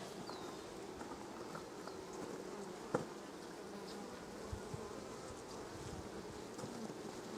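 Honey bees buzz inside a hive during Apistan varroa mite treatment, making a dense, continuous hum at a moderate distance with a few small knocks and scrapes, and no one speaking.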